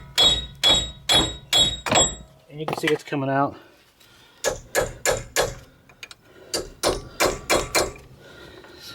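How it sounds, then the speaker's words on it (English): Sharp metallic hammer blows on a 2008 Dodge Avenger wheel bearing ring out in quick rhythmic bursts of four or five, with a brief spoken remark in the middle. "I also picked up a little bit bigger hammer just to help it out a little bit"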